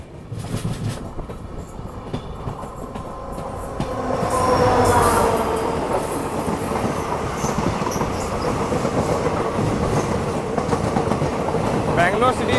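A diesel-route passenger train runs on the rails in southern India, a loud continuous rumble of wheels with rhythmic clatter and squeal that swells after the opening seconds and stays near and steady.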